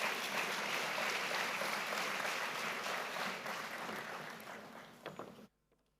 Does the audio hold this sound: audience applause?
yes